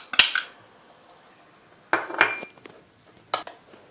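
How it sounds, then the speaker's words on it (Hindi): Chicken is mixed with whipping cream and yogurt in a bowl for a stuffed-egg filling. A spoon clinks and scrapes against the bowl in three short bursts separated by pauses, close and fairly loud. "और ये चिकन, अब मैं इसको अच्छी तरह डाल के मिक्स करती हूँ।"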